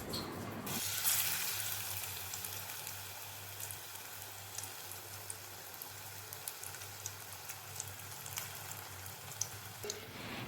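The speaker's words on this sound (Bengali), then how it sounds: "একই রকমভাবে আরও কয়েকটা মিষ্টি কুমড়োকে ব্যাটারের মধ্যে মেখে আবার সেই তেলের মধ্যে ছেড়ে দেব আমি।" Sweet pumpkin slices coated in batter fry in hot oil with a steady close sizzle and scattered small crackles and pops that run throughout.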